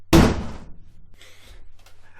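A single loud, close thud as a kid trips and face-plants into a wall near a handicap door button, with a short low rumble fading after the impact and faint scuffling.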